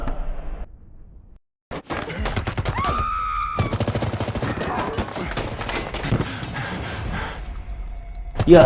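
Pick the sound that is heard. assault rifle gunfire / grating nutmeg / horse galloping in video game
assault rifle gunfire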